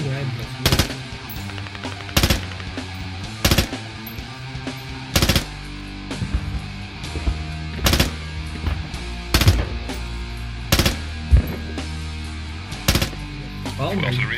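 Heavy gunfire in the military shooter Squad: loud, spaced bursts and single shots ring out roughly every second or two over a low rumbling background.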